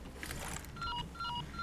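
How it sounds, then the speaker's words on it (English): Phone call ringing in Resident Evil 4, a repeating electronic two-tone ring pulsing in short bursts against a low rumbling game backdrop. "Gotta get this phone call."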